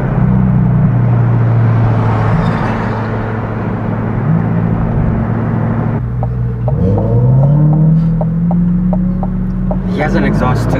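A C8 Corvette fitted with a Blue Attack air filter gives a steady, loud engine and exhaust drone with low rumble, and the revs rise partway through. Someone talks over it.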